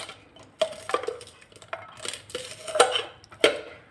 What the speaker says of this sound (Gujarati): આ રીતે તમે ગ્લાસને વટાણા સાથે આમ ઘસશો ને એટલે ઓટોમેટિક વટાણા છે એ નીકળી જશે